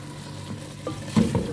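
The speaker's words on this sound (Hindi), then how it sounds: "आप भुनाई देख सकते हैं कितनी अच्छी मैं कर रही हूँ" Tomatoes frying in a pot for lamb pulao with green chilli, a soft sizzle with spoon stirring and a brief louder scrape near the end, close up and without talking.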